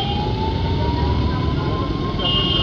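An ambulance siren wails in a steady, loud tone with a slowly rising pitch, nearby on a street, with the background hum of traffic underneath.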